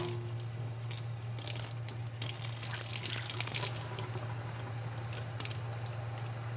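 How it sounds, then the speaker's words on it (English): Water runs from a tap into a sink as a ventilator circuit tube is filled and rinsed out, with steady close splashing and a continuous hum underneath. "So I just fill it up and rinse it out."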